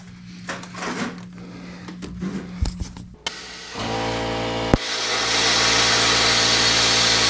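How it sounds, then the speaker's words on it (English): A plasma cutter slices metal during a front coilover build while an air compressor runs. After a few seconds of scattered workshop clatter, a loud steady hiss with a droning hum takes over, broken once by a sharp click. "This plasma cutter seems to work much better now that I've upped the air pressure a little bit."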